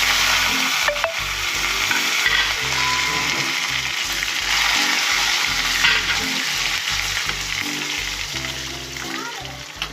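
Dried red chilies and curry leaves fry in hot oil with a loud, close, steady sizzle. Rhythmic scraping stir strokes run through it for the whole ten seconds.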